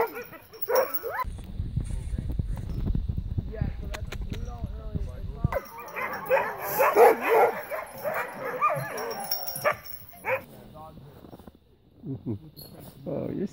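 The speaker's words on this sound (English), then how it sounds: "Look at the dogs." Sled dogs near Fairbanks, Alaska bark and yip in short bursts with some whimpering, fairly close, mixed with people talking over them.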